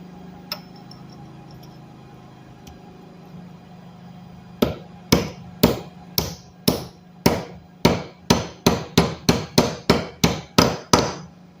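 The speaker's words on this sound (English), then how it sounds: "The old hammer press." A quiet pause, then a steady series of sharp metallic hammer blows, about sixteen strikes speeding up slightly as a part is driven onto an RC CFX boiler nozzle.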